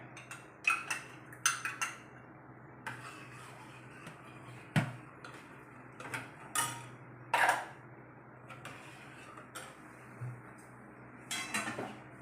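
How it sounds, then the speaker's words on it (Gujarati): Milk being stirred in a pot to thicken it as it cooks. A spoon clinks and taps against the pot in irregular bursts over a low, steady hum, with quiet gaps between strokes. "અને મિલાવતી જઉં છું. આનાથી દૂધ જાડું થશે."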